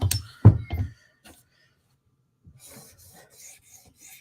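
A Tanto M4 knife scrapes across an 800 grit stone in a few short, close rasping strokes at the start, followed by quiet and faint scattered rubbing.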